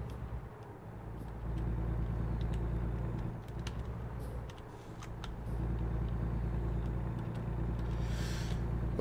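Truck engine in American Truck Simulator, a steady low droning hum with a slight rise in level as it gathers speed, with faint clicks over it and no talking.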